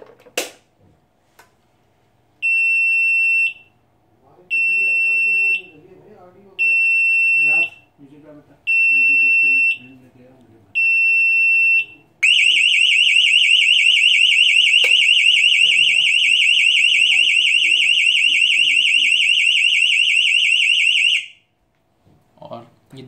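A centralized fire alarm sounder on a building fire alert system beeps in five loud, evenly spaced electronic bursts and then holds a continuous piercing tone for about nine seconds before cutting off, with someone talking quietly beneath the pulses.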